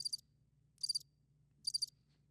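Crickets chirping as a comedic sound effect: three evenly spaced bursts of shrill chirps over a faint low hum, with no voices.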